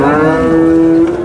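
A cow at a cattle market in Sangola lets out a single loud, close, drawn-out moo, heard on its own.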